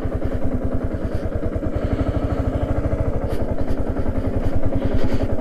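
A Yamaha R15 motorcycle engine thrums steadily and loudly at close range with a fast, even pulsing as the bike runs down a steep road. Faint rattling and wind noise sit underneath.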